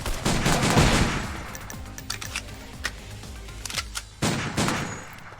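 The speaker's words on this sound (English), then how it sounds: "Oh, hey, I got a machine gun, I think." A machine gun fires in the VR shooter Silicon Rising: rapid bursts of sharp shots, loud and close, with brief gaps and a final heavier volley.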